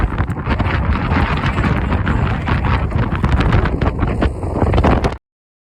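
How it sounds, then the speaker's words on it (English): Loud, roaring wind on the Appalachian Trail near Mount Madison buffets the microphone nonstop with rumbling gusts, then cuts off abruptly near the end. "It is so windy."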